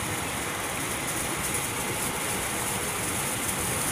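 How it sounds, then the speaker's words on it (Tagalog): A steady, loud exhaust fan motor hum with a whooshing airflow, running continuously without change like a fan at full speed, after repair of a faulty motor. "Testing natin ang exhaust niya kung gaano kalakas."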